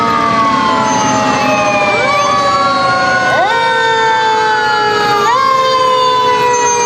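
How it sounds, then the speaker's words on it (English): Fire engine and county EMS sirens wail loudly and continuously as emergency vehicles roll past in a Christmas parade in Lockhart, overlapping siren tones sweeping in pitch and cycling repeatedly, very close. "911 emergency vehicles. Union County EMS. Southside Fire Department going by."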